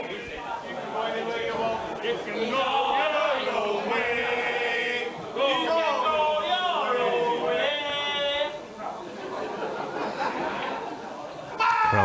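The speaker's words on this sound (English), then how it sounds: "Crowd just letting him know that that wasn't the best positional shot." Spectators at a 2019 Taom Shootout pool match react to a poor positional shot with murmuring, chatter and scattered laughter that swells and dips, with voices mixed throughout.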